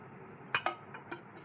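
A spoon clinks against a container while sugar is stirred into a pomegranate wine mixture: three or four quick, bright metallic taps, close and moderately loud over a quiet background.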